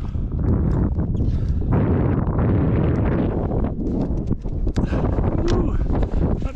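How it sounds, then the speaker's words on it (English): Strong wind buffets the microphone on a mountain summit, a loud continuous roar with gusty surges through the whole stretch; faint voices may sit under it. "I thought it was windy up here."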